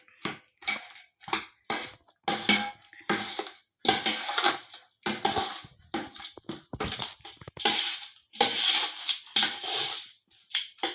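A spoon scrapes and clatters around a pan while ghee and crushed cardamom are stirred into jaggery syrup, heard as repeated short, irregular scraping strokes that are close and fairly loud.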